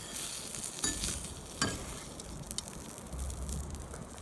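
Onions sizzle on a cedar plank over a barbecue grill, a faint, soft crackle broken by a few sharper pops and light clatter.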